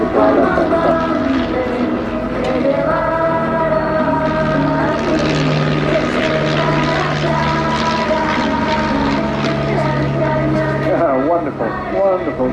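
Stampe biplane performing an aerobatic air display at Eastbourne, its propeller engine droning steadily throughout with shifting pitch as it rolls and arcs, while a commentator speaks over it.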